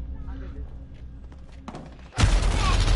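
Gunfire in the Call of Duty Modern Warfare beta erupts as a sudden loud, dense burst of shots after a quieter stretch of game ambience and continues hard to the end.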